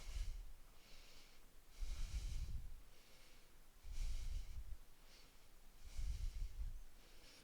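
Slow, deep breaths during a vinyasa yoga balance pose on one hand with a leg stretched upward: four rhythmic inhale-exhale cycles, close and fairly loud, with airy nasal rushes and no talking.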